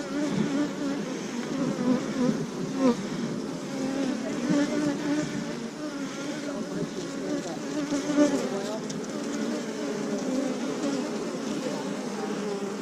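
Bees buzzing around an open beehive during an inspection, a dense continuous hum close to the microphone with swelling and fading drones from individual bees throughout.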